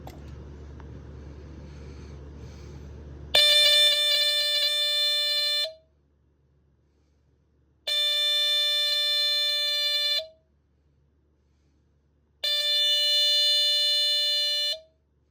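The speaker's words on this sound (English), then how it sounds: "you'll hear that this pulse is similar to the Westclock's smoke alarms of the 70s" A vintage Dicon SM-2B smoke alarm blares a shrill electronic tone in three long pulses of about two seconds each, separated by silent gaps, after a brief low rumble.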